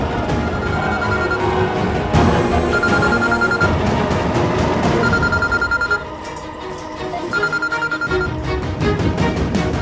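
A telephone rings repeatedly in steady bursts, loud and close, with a busy background of other sounds beneath it.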